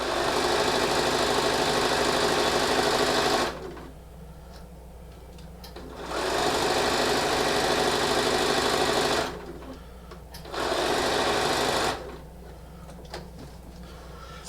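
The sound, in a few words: sewing machine sewing bias quilt wedge with walking foot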